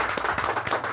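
A few people clap in a short, uneven burst during an interview reaction, the individual hand slaps fairly close and distinct over a light wash of applause.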